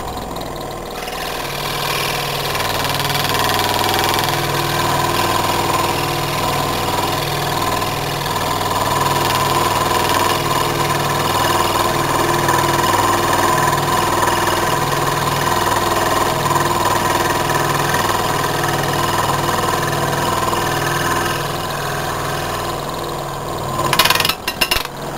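A scroll saw cuts around the outside of a wooden 3D ornament with its blower running, giving a steady, loud mechanical buzz that holds for the whole stretch, then a brief clatter near the end.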